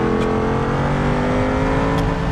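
A race car in BeamNG.drive powers up a tarmac hill climb, its engine a loud, steady, close droning roar held under throttle throughout, with no voices.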